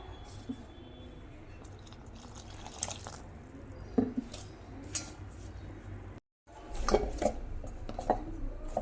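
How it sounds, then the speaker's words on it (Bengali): Atta dough for aloo paratha is kneaded by hand with small splashes of water, giving soft squelching, dripping and occasional bowl knocks, quiet and close, with a brief silent gap. "এবার অল্প অল্প করে জল দিয়ে যেরকম আমরা আটা মাখি সেরকম একটা ডো রেডি করে নেব মেখে"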